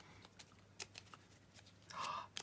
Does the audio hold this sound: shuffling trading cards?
yes